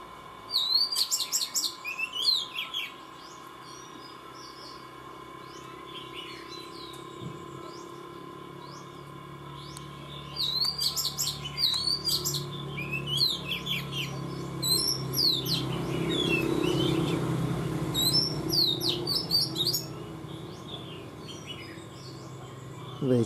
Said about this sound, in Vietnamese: Trong này có con chòe của bạn ấy hot hay lắm.